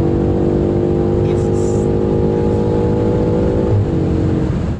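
A Manhart MH5 700 tuned BMW M5 accelerates hard from inside the cabin, its engine droning in a steady rising pull before a brief gearshift dip, with someone talking over it.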